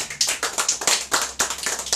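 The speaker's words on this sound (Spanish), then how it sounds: "Démosle un aplauso al Señor" Congregation at an evangelical worship service clapping together, a steady run of sharp overlapping handclaps that pulse in loose rhythmic bursts throughout, close and fairly loud.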